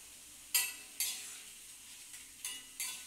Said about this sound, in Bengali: প্রথমে আমি আদা পেঁয়াজ রসুন পেস্টটা এর মধ্যে দিয়ে দিলাম। এটা তেলের মধ্যেই থাকুক।